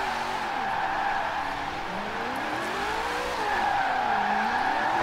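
A 1968 Mustang GT drifts in Forza Horizon 4, its tires squealing in long wavering arcs over a steady engine drone, loud and continuous throughout.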